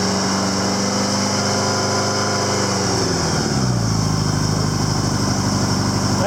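A Honda Goldwing motorcycle idles on its center stand, its engine holding a smooth, steady hum that settles slightly lower partway through. It sounds loud and close, with no talking.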